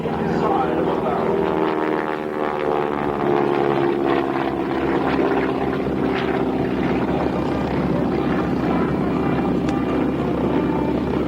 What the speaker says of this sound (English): Up and around in the big barrel roll, showing us once again the capabilities of this beautiful big AT-6 Texan.